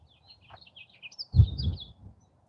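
Small birds chirp and twitter in quick, light bursts, fairly close, while a brief low thump sounds partway through.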